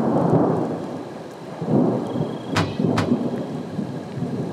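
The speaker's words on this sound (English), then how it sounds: "Ooh, lightning." A storm brings thunder and steady rain, with a continuous rumbling wash punctuated by two sharp, close cracks near the middle.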